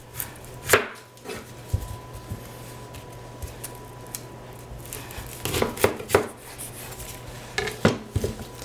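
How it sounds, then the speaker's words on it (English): Onions chopped with a knife on a cutting board, a few sharp separate knife strikes with faint background clatter, sounding close. "Cut my onions."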